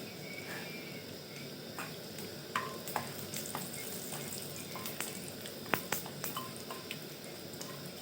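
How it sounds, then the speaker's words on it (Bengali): Whole cumin, a bay leaf and a dried red chilli sizzling in hot oil for a Bengali mochar ghonto, a soft, steady fizz with scattered pops and spoon clicks, close but fairly quiet. "এখানে ফোড়নে দিয়ে দেবো গোটা জিরে, গোটা তেজপাতা আর একটা শুকনো লঙ্কা।"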